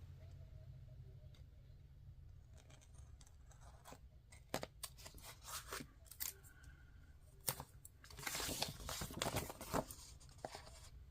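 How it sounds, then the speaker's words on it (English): Scissors trimming paper while assembling a Christmas planner, a run of short crisp snips and rustles that grows louder and denser toward the end, close by with no talking. "Let's go ahead and trim it."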